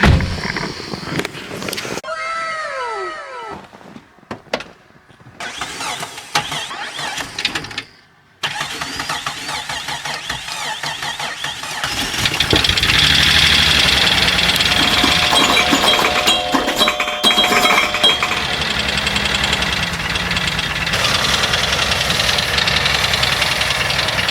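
A Jeep engine with a blown head gasket and antifreeze in the oil cranks and catches, then runs steadily and loudly with a rough, smoky idle. Scattered clanks and handling noises come before it starts.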